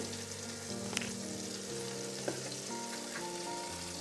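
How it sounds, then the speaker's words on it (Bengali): Chopped garlic fries in melted butter over a medium-low flame, giving a quiet, steady sizzle with a few faint crackles and ticks, close and without speech. "এই যে রসুন কুচোনোটা দিয়ে দিলাম। দিয়ে একটু রসুনটাকে একটু এইভাবে ভেজে নিতে হবে"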